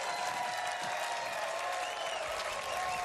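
Steady, full crowd cheering and applause at a Boston Red Sox versus Minnesota Twins spring training baseball game after a strikeout, a broad roar from the stands with a faint whistle in it.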